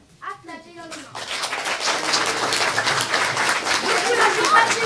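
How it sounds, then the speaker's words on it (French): Children in an audience at a Christmas party clap their hands in a loud, sustained burst with voices mixed in, after a brief spoken instruction from an adult. "Celui-là, vous devez applaudir dans les mains."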